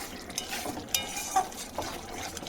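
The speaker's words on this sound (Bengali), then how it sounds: "এখন মশলাটাকে কষিয়ে নেব" A spice paste is stir-fried in oil in a pan for a paneer dish, giving a steady close sizzle with scraping stirring strokes and a few sharper clinks of the spoon against the pan.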